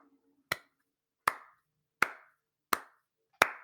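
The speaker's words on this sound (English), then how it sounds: "I don't like your sarcastic applause" Five slow, evenly spaced hand claps ring out crisply and alone, each one sharp and followed by a brief decay, giving a deliberate, sarcastic applause rhythm.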